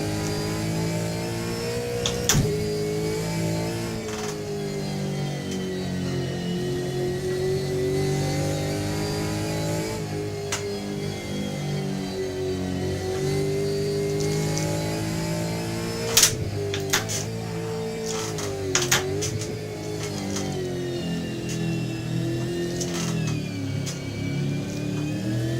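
An AK Gen 3 racing car engine in the Assetto Corsa racing game holds a steady mid-pitched drone that rises and falls with the revs, punctuated by several brief sharp clicks.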